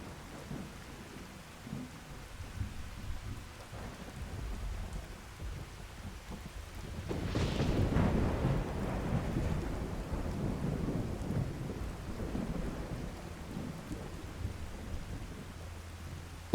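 Skyrim thunderstorm: steady rain patters beneath a deep, rolling thunder rumble that swells midway and slowly recedes, with no voices present.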